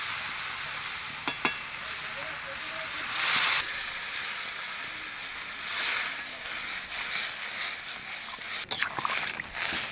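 Mixed vegetables with Malabar spinach sizzling in a pan, steady frying hiss with brief splashy bursts as water goes in, a few sharp clinks of utensils, no talking.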